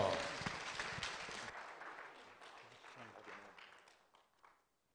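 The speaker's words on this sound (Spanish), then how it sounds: "Vamos a recibirlo con un fuertísimo aplauso, pastor." A church congregation applauds to welcome the pastor, a burst of clapping that starts strong and steadily dies away over a few seconds as a voice speaks through the tail.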